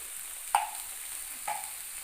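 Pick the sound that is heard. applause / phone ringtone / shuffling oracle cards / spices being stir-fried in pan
spices being stir-fried in pan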